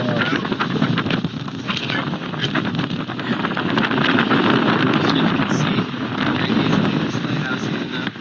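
Strong wind in Norway buffets the microphone in a constant, rough roar that swells and eases slightly across the stretch.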